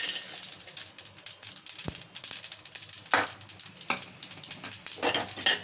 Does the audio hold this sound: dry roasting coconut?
yes